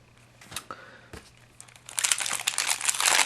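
A Magic: The Gathering Return to Ravnica booster pack wrapper is torn open and crumpled, with a few sharp crinkles at first, then a louder, continuous crackling of foil plastic close by.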